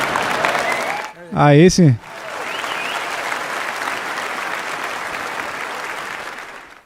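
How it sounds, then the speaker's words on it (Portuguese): Dense, sustained applause from a church audience fills the room loudly for several seconds, briefly cut by a short spoken exclamation before the clapping swells again. "esses aplausos são para Jesus"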